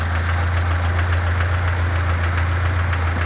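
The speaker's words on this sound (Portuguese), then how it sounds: "isso é um barulho de pino de pistão, saia de pistão" A car engine idles with a steady, rhythmic metallic knocking from a worn piston pin and piston skirt, a repeated tapping over the low engine rumble.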